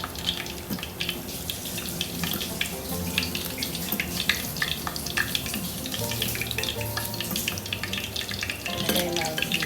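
Chicken frying in hot oil in a home kitchen, a steady dense sizzle and crackle running continuously and fairly loud throughout, with faint clinks of utensils and no talking.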